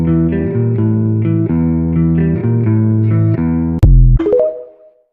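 Electric guitar riff with a chorus effect and distortion: steady chugging repeated notes, then a sharp stop and a few ringing notes that fade out, with no talk.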